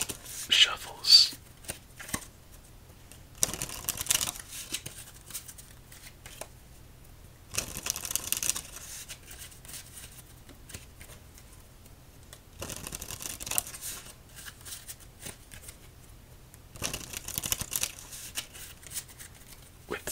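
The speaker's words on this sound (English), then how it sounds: "Let's give this deck 5 shuffles. Riffle shuffles." Five riffle shuffles of a Roasters Pumpkin Spice deck of playing cards, each a crisp close-up fluttering burst of a couple of seconds, separated by quieter gaps of handling and side cuts.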